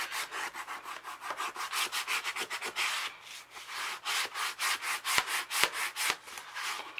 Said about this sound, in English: give it a good burnish from the inside